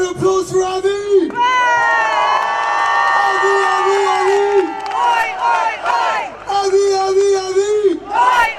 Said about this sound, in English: Big round of applause for Avi!